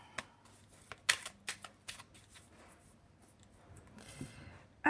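Oracle cards being shuffled for a divination reading, a run of crisp riffling snaps and clicks early on, then softer rustling of the deck, close and fairly quiet with no talking.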